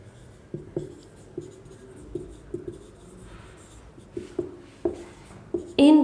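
A teacher writes on a board during a class 10 chemistry lesson, producing short scratchy strokes in uneven bursts with a faint voice in the background, ending in a louder scrape.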